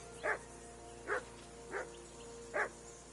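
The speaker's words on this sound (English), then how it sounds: "that barking's driving me nuts" A dog barks four times in the medieval video game Kingdom Come Deliverance II, in evenly spaced single woofs at moderate distance, with no talk.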